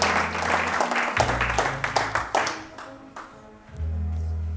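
A church congregation claps in scattered bursts during a French-language sermon, with sustained low organ or keyboard tones underneath, fading toward the end before the music swells again.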